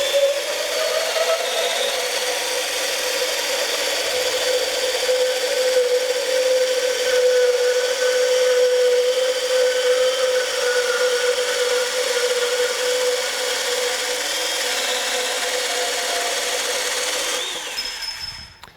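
A Bosch 18-volt compact portable band saw cuts through thick-walled 1 3/4 inch tubing, a steady close whirring blade tone that holds for several seconds and winds down at the end, with no talk.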